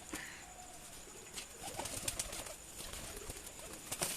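Rooftop pigeons flapping their wings as they take off, bursts of fluttering wingbeats over a quiet outdoor background, with a few faint coos.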